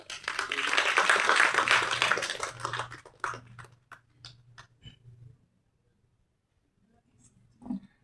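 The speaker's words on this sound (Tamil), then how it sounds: "ஒன் மோர் டைம் அவங்களுக்கு ஒரு கைத்தட்டல் கொடுக்கலாம்" An audience claps and applauds loudly for about three seconds, the sound thinning into a few scattered claps before fading to silence, with a brief burst near the end.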